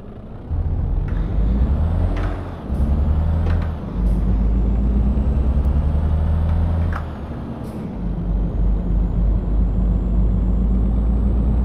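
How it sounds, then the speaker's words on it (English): A heavy truck engine in the video game Euro Truck Simulator 2 drones loudly with bursts of hissing and sharp clicks as a motor brake engages and releases, no talking. "Now this truck has a better motor brake than the rest of them."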